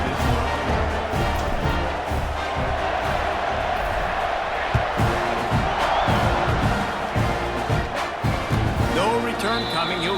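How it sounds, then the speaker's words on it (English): Stadium crowd in EA Sports College Football 26 roaring and cheering at the kickoff, a dense, steady wall of noise with scattered shouts and whoops. "They're set to kick it off, and this crowd now ready to get behind them."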